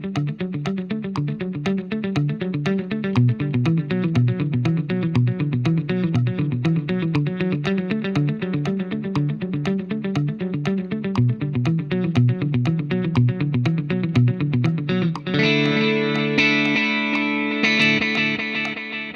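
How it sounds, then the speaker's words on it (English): Electric guitar plays through a Positive Grid Spark amp with a dotted eighth delay synced to tempo, rapid repeating picked notes echoing in a dense rhythmic shimmer, swelling into sustained ringing chords near the end. "If you remember on the delay pedal, we synced it to tempo and we synced it also to dotted eighth notes."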